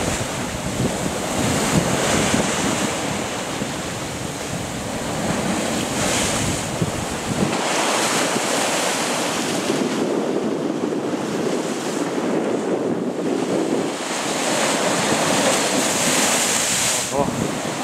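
Sea waves roll and crash at Xlendi Bay on Gozo, Malta, while strong wind buffets the microphone in a constant roar, with surges of surf rising and falling throughout.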